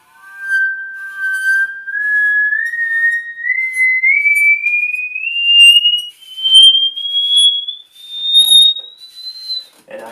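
A hardware saw played as a musical saw holds a single sustained singing tone that glides slowly upward in pitch over about ten seconds, eerie and whistle-like, with a gentle pulsing vibrato.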